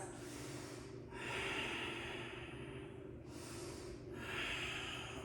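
Deep yoga breaths close to the ear: a long nasal exhale, then a forceful inhale, repeated in a slow steady cycle with airy, snort-like texture and no talking.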